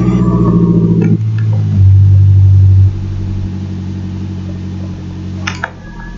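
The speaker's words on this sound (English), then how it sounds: "I think all I can do now really is start the car." A Lancia Delta Integrale Evo2 engine, first a steady close idle, then a brief deeper rev that falls back into a low, even idle, with a few light clicks and knocks nearby and no talking.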